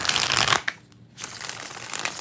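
Tarot cards riffle and shuffle in dense, rapid bursts, close by, with a brief quieter gap in the middle before the shuffling resumes.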